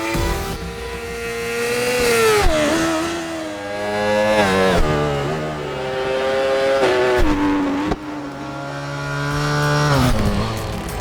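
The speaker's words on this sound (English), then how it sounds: "Real enthusiasts can guess a bike by its sound even before seeing it" A superbike engine in the racing game Ride 4 revving in long rising and falling sweeps, loud and close, the pitch climbing then dropping back several times with brief gear-change dips, with no voices.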